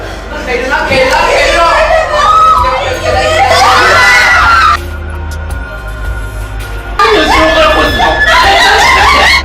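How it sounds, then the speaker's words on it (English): Crowd of people shrieking and shouting as they leave the exit of the Fuji-Q haunted attraction, loud, sustained and overlapping, with a short quieter gap in the middle before the screaming swells again. "This is the exit where people come out screaming."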